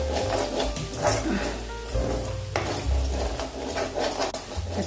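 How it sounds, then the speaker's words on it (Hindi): A spoon scrapes and stirs turmeric, red chili and other spice powders in a bowl, making continuous rubbing and scraping strokes with light knocks against the sides. "अच्छे से इसको मिक्स कर लेंगे पहले"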